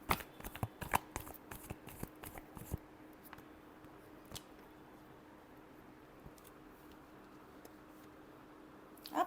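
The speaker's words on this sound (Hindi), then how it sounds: "Last shuffle." Tarot cards are shuffled close by in a rapid run of crisp riffling clicks and flutters for the first few seconds, then a few isolated taps over quiet room tone, with one last burst of card noise at the end.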